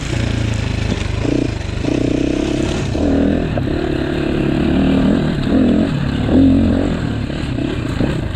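A GPX Moto FSE300R dirt bike being ridden on tight woods single track, its engine rising and falling in short revving bursts with clatter and scraping, close and steady with no talk.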